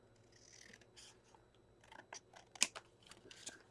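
Scissors snip paper trimmed for an altered book, a few close, quiet cuts with one sharp clack, among soft paper handling.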